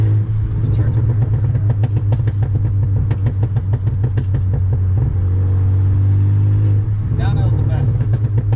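A big-turbo Porsche 944 heading downhill, its exhaust crackling and popping in rapid, loud bursts over a steady low engine drone, heard from inside the car while people talk throughout.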